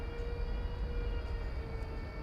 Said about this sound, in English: It sounds like there's an air start going on over at UPS headquarters